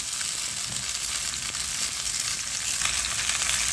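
Radish sizzles in a pan with fried onion, green chili and garlic, giving a loud continuous hiss and crackle with no pauses and no talking.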